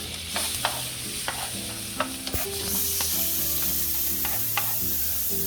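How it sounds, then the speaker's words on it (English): Bell peppers and garlic sizzle in a hot pan while being stirred, a continuous frying hiss punctuated by sharp scraping clicks of the utensil, with a low steady hum underneath. "We're gonna go ahead and saute the peppers with the garlic"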